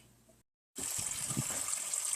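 Warm water runs steadily from a tap into a sink while potatoes are scrubbed with a new sponge, a close, continuous gush that starts abruptly after a brief silence, with faint rubbing beneath it.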